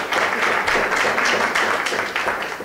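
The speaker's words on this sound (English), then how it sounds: "I don't think they're applauding for you, Buck." Audience at a voter forum for Cape Cod Tech applauding steadily, a dense continuous wash of clapping from a crowd in a hall, loud and sustained throughout without pause.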